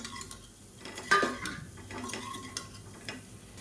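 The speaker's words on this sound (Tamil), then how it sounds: "இப்போ இந்த முட்டை எல்லாத்தையுமே இதில் சேர்த்து நல்லா வறுத்துக்கலாம்." Eggs roast in masala in a kadai over a low flame while being stirred, with a spoon clanking and scraping against the pan and a faint sizzle underneath, close and quiet with no talking.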